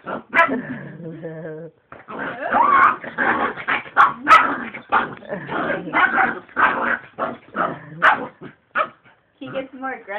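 A miniature pinscher barks and yaps agitatedly at close range, with near-continuous bursts while people speak alongside.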